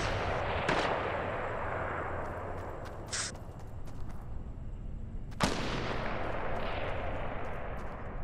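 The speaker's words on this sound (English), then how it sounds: "I heard shots, but I don't know where." Gunshots in a Fortnite match, two sharp cracks at a distance over a steady wash of game ambience, with no talking.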